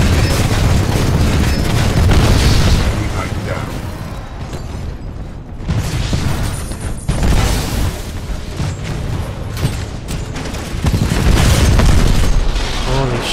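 Titan core weapon explosions in Titanfall 2, a series of loud, close booms and bursts with mechanical clanks between them, rolling in waves, with someone talking at times.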